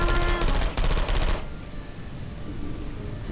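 Portal 2 turrets spray rapid bullet fire in a clattering machine-gun stream for just over a second, loud and near, before it cuts off to a quiet room tone.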